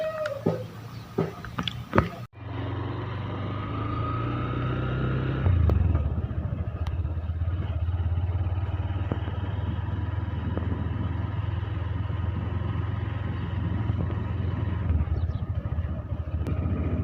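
A motorcycle engine drones steadily while the bike is ridden, a continuous close rumble with slight surges, after a brief stretch of clatter and handling noise at the start.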